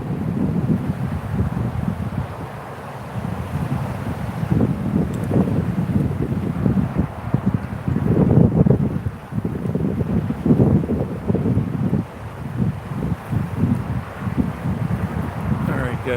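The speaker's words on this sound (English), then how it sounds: "freaking wind, man, it just keeps blowing me into these trees" Wind gusts across a river while someone paddles a small boat near eddies and trees, producing a continuous rumbling buffet against the microphone that swells and dips throughout, with no clear voices.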